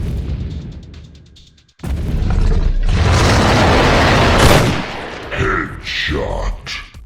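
Gunfire in the ARK survival video game, a sudden loud blast followed by a booming rumble and smaller bursts, close and heavy against quieter game background.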